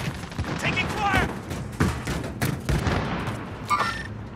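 Gunfire in Call of Duty: Modern Warfare, dense overlapping shots and bursts through a busy battle mix, with short radio-style voice callouts and electronic beeps over the top.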